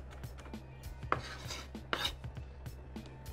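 Knife chopping a piece of onion on a board, a series of sharp irregular cutting taps, two louder strikes among lighter ones, under a steady low kitchen hum.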